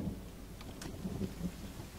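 Steady rain hisses beneath faint low thunder rumbles during a storm in the survival game The Forest, soft and distant in tone with no speech.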